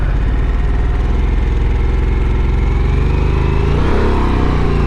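A 2023 Harley-Davidson Sportster S with its 1250 engine, heard while riding: a loud, dense, steady engine rumble with throbbing low pulses and a slight rise in pitch near the end, no voices.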